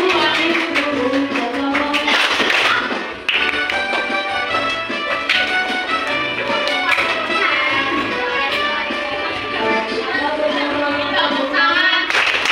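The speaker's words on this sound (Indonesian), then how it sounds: "tepuk tangan." A class of pupils claps hands in a steady, continuous patter mixed with loud singing and music, filling the room throughout.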